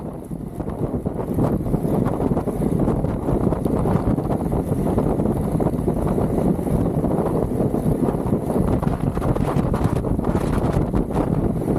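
Strong headwind buffeting the microphone on a group bicycle ride along a street, a continuous loud, rumbling roar of wind noise that holds steady for the whole stretch with no talking.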